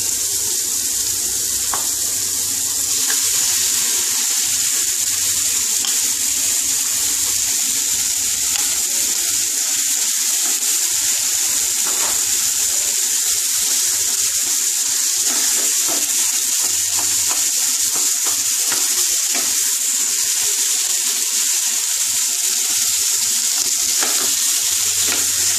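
Potato pieces frying in mustard oil for a Bengali aloo bharta, giving a steady, loud, close sizzle that holds evenly throughout with occasional faint stirring clatter.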